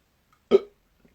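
A single short, loud burp bursts out close by in an otherwise quiet room and fades quickly.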